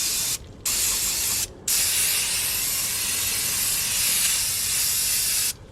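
Short bursts of aerosol cleaner hiss loudly onto Range Rover Evoque brake discs and parts, a close, steady spray broken by brief pauses between squirts.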